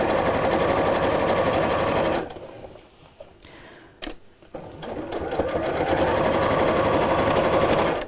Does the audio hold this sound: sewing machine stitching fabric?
yes